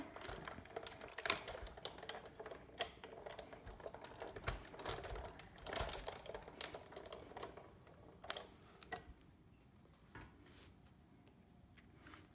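A Big Shot die-cutting machine is cranked by hand with text laid over paper, giving a steady run of dense clicking and ratcheting mechanical noise, close and continuous, fading near the end.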